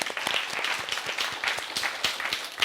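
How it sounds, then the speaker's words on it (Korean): Church congregation applauding one another in encouragement during a Saturday service, a soft, fairly distant patter of many hands clapping, steady throughout. "서로 힘내라고 한번 서로의 격려 박수 한번 할까요?"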